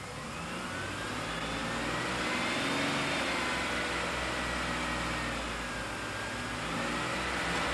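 A car engine held at 2,000 RPM runs at a raised, steady speed with a smooth whine, the pitch drifting slightly up and down throughout.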